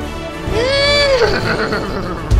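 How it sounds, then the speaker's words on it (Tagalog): A horse neighs once, a loud, close whinny rising and then falling over about a second, followed by a short trailing breathy snort. "May kabayo."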